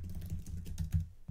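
Brief burst of close typing on a computer keyboard, several quick soft key clicks in an uneven rhythm over a low background hum, with no voices.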